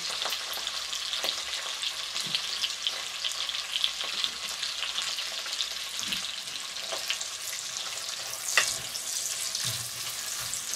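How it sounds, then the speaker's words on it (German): Vegetables and tomato paste fry in plenty of oil in a Dutch oven, giving a steady close sizzle with occasional soft stirring knocks and no talking. "das ist ja schon fast der Frittieren, so viel Öl wie drin ist"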